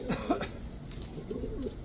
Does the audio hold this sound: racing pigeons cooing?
yes